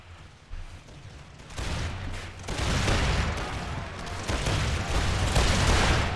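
Dense musket volleys and cannon fire crackle and boom through a large Empire II multiplayer battle as troops fire on an enemy flank, starting quieter and swelling into loud, continuous overlapping gunfire with no talking.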